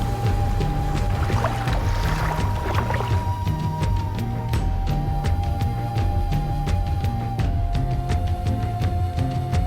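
A kayak paddles across a Boundary Waters lake, soft paddle strokes and water drips repeating in a steady rhythm over a quiet, close background.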